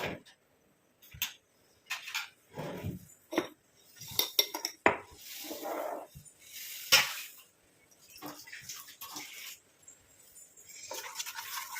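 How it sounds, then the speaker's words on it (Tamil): Close, busy scraping and clinking of a spoon stirring a mixture of coffee powder and beetroot juice in a pot, in irregular bursts of metallic scrapes and taps with brief pauses. "நல்லா இந்த மாதிரி கலந்து விட்டே இருக்கணும். நல்லா மிக்ஸ் ஆகட்டும்."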